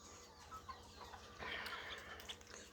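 Chicks from a cross between native country hens and a crossbred breed cluck softly and continuously, a busy close flock chatter with a few sharper peeps.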